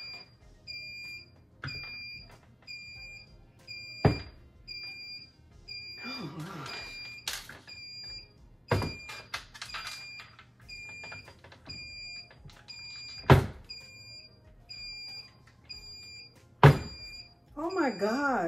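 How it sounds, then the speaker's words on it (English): A Pydlife heat press timer gives repeated short high-pitched beeps in an even pattern after a 60-second countdown, fairly quiet and close, with intermittent sharp knocks and a person talking between beeps. "Okay, so it's beeping."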